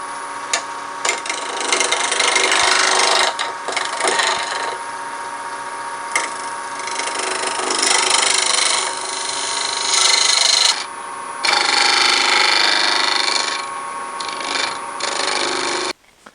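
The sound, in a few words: lathe turning a cast resin base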